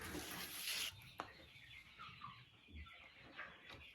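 A hen sitting in a nest without straw to lay eggs gives soft, quiet clucks and rustles close by, with a faint scrape or two and no talk.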